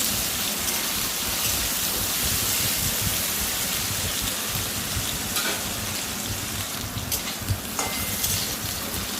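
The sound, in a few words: potatoes frying in a pan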